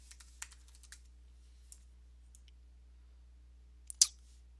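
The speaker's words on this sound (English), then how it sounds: "Right click on here again and scroll this navigation." A computer mouse being right-clicked while navigating a PHP CMS admin: a few light, scattered clicks early on, then a sharper double click near the end, all close and quiet against near silence.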